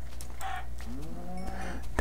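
A cow mooing in the Minecraft video game, a single drawn-out, fairly close low moo over a steady background hum, with no talking.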